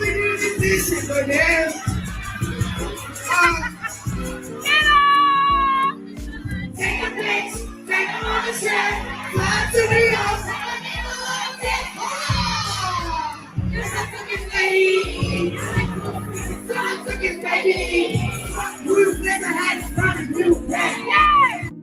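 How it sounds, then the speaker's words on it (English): A live concert crowd shouts and chants along to music with loud, high-pitched voices. The massed singing swells and dips over a steady beat, with short gaps between bursts. "Listen to that crowd, y'all."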